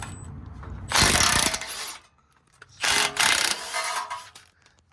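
An impact power tool drives 14mm bolts on a 3rd-generation Toyota 4Runner's lower ball joint, two loud whirring, rattling bursts separated by a short pause, close up and without speech.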